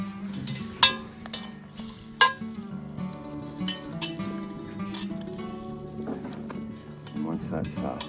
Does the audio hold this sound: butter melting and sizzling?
yes